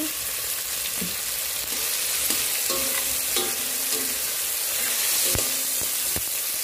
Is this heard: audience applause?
no